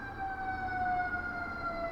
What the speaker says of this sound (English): Sorry if you can hear the sirens.